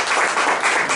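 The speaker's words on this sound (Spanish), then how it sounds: "Le damos una ofrenda de palmas a nuestros Dios." Church congregation clapping as an offering of praise to God, a brief loud burst of many hands clapping together, close and dense.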